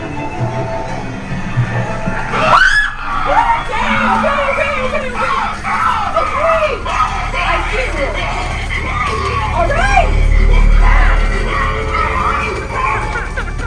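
Crowd yelling, screaming and whooping on an amusement attraction, loud and sustained throughout, with voices overlapping.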